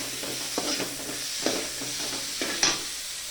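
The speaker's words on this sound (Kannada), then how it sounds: "ಕಾಯಿನೂ ಹಾಕ್ಕೊಳ್ತೀನಿ, ಹುರ್ಕೊಳ್ತೀನಿ, ಸ್ವಲ್ಪ ಹುರ್ಕೊಳ್ತೀನಿ ಫ್ರೆಂಡ್ಸ್" Grated coconut frying in a pan gives a steady soft sizzle, broken by a few scraping strokes as it is stirred, close and moderately quiet with no voices.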